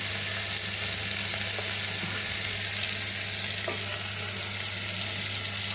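Tamarind pulp broth hits a pan of frying onions and green chilies for bitter gourd curry, giving a loud, steady sizzle and bubbling hiss that continues close-up with a few faint clinks of stirring.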